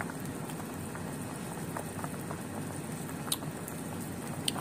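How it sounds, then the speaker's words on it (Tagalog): A pot of salmon sinigang broth with radish and taro bubbles steadily at a low, even simmer, a soft continuous patter of bursting bubbles with a few faint clicks, close and alone without talk. "Sapagkat kanina pa yan kumukulo."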